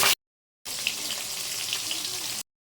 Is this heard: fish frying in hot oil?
yes